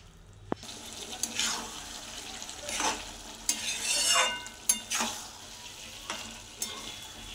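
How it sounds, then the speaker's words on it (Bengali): Taro leaves (kochu shak) bubbling in a pan, with a low simmering hiss broken by repeated wet swishes and scrapes of stirring and a few sharp utensil knocks, close and fairly quiet. "ভালো করে মিশিয়ে নেব। 1 মিনিট ফুটিয়ে দিলেই হয়ে গেল।"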